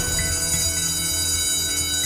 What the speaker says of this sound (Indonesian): Bel udah bunyi tuh.